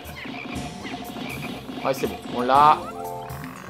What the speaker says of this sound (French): C'est la grenouille.